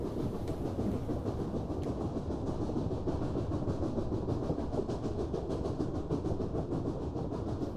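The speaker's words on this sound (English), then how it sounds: "I will travel through many parts of Transylvania by train." A passenger train travelling through Transylvania, heard as a continuous rolling rumble with steady rhythmic clickety-clack of the wheels on the rails, moderately loud and without any voices.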